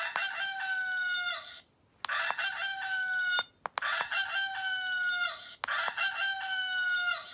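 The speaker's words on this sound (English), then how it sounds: "Did you say a rooster?" A rooster crows loudly several times in a row, each call long and strident, with short pauses between them and no talking.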